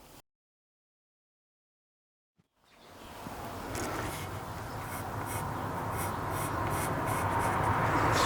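Pencil or marker drawing a guitar body outline on a wooden blank, a steady close rubbing scrape that starts after a couple of seconds of silence and continues without pause to the end.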